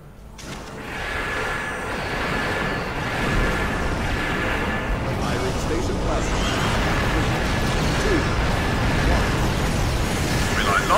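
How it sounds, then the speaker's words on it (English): Space battle explosions in the game Star Trek Online rumble continuously, a dense, low, roaring wash of blasts and bursts that swells and holds steady throughout at moderate loudness. "Lots of explosions ruin everyone's frame rate."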